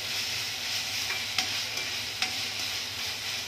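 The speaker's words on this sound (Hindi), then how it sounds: "इसको तेज आंच पे एक मिनट के लिए भूनना है।" Onion and capsicum frying on a high flame, a continuous close sizzle with a few sharp clicks of a utensil against the pan.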